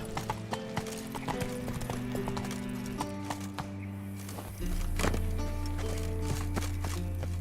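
Roach the horse trots along in the Witcher 3 video game, with steady rhythmic clip-clop hoofbeats up close over a low droning game soundscape and a brief whinny.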